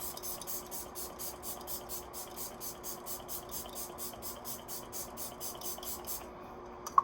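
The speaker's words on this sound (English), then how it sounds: "that's why I had to spray so many times" Rapid, evenly spaced spritzes of a makeup setting spray bottle repeat many times in a row, then stop, followed by a faint click.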